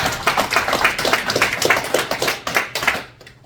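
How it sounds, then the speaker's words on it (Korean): A small congregation at a men's fellowship morning church service claps to welcome a pastor to the front. The crisp, close hand claps patter quickly and unevenly, then thin out and fade to quiet. "나오실 때 큰 박수로 할렐루야로 환영 인사"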